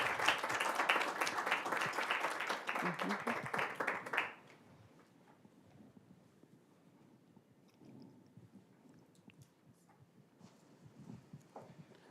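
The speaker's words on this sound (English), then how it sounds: "If we can please give CEO Qiana Thomason another round of applause, please." A crowd claps loudly for about four seconds, then the applause cuts off, leaving quiet room noise with faint scattered sounds.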